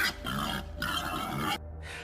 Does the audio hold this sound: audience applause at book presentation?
no